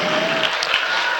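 Audience applause at an annual school fun show, a short burst of steady, fairly loud clapping from a crowd lasting just over a second.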